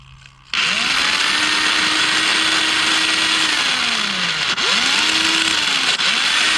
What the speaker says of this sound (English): Motor is spinning, axles are spinning, and this servo and MSC are turning.